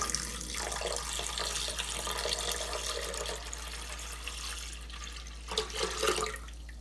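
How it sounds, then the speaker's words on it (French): Tap water running steadily into a container while mixing homemade laundry detergent, a continuous close hiss and splash that swells briefly near the end. "et je vais mettre 1 litre d'eau"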